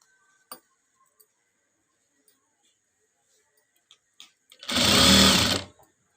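A domestic sewing machine with a normal presser foot stitches thin piping in one loud, continuous burst of about a second, after a few faint clicks and taps in a quiet room.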